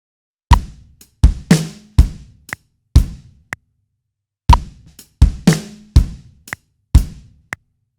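Rock drum kit beat on a beginner pattern, bass drum landing on 1, the and of 2 and the and of 3, with snare and hi-hat hits: two clear bars of sharp, close, loud strikes separated by a short pause, no voices.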